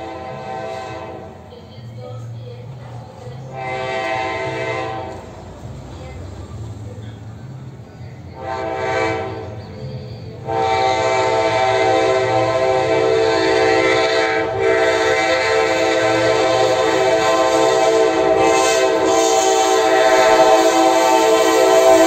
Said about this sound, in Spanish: Aquí viene un directo sur con un silbato C4400.